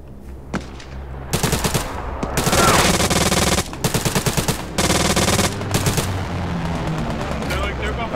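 An MG42 machine gun fires in long, loud, rapid bursts with short pauses between them during a Hell Let Loose match in Hurtgen Forest, with other gunfire around it.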